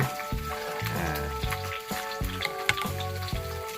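Fermented pla ra fish sauce with mango, cooked on a low gas flame for tilapia lon, bubbles and sizzles steadily and close, with soft pops and no voices.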